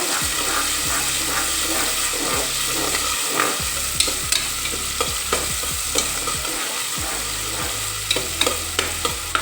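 Onions sizzle and fry steadily in a pan for a chicken masala gravy while a spoon scrapes and stirs in repeated strokes, close and clear, with no talking.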